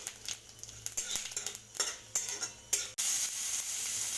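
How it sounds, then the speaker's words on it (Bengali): Whole spices and dried red chillies fry in a little oil in the same kadai where fish was just fried, with close, choppy spatula stirring and scraping over a sizzle that swells into a loud steady hiss midway. "সেই কড়াইতেই আবার একটু তেল দিয়ে ফোড়ন আর শুকনো লঙ্কা দিয়ে ভালো করে নেড়ে নেব"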